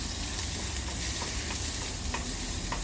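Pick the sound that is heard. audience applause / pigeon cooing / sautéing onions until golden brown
sautéing onions until golden brown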